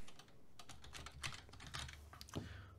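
Keys clatter in quick irregular bursts on an Amiga computer keyboard, close and fairly quiet, with no voices.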